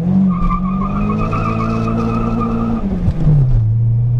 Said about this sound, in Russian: Ну что, газ в пол.